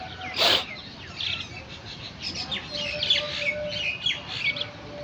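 Pigeons landing on and feeding from a person's head, with a steady run of close bird chirps and calls and one brief louder burst near the start.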